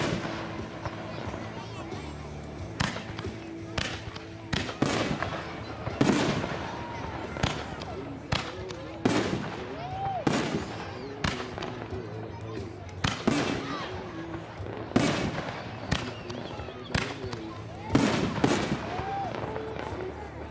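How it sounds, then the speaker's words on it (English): A 36-shot rack of firework artillery shells goes off in a long run of sharp booms and crackling bursts at uneven intervals, some overlapping. Onlookers talk between and over the blasts. "So this is a 36 rack of different artillery shells."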